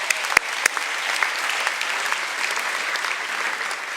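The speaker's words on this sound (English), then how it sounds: "Yes, you can give yourself a round of applause." Students applaud at a school morning meeting welcoming new students at the start of the year, a steady broadband clatter of many hands held at an even level for the full four seconds, with a few sharper claps standing out near the start.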